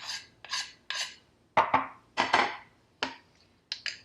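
Spoon scraping seasoning into a bowl for hot ham and cheese sandwiches, a series of short rasping strokes in an uneven rhythm, close and fairly quiet.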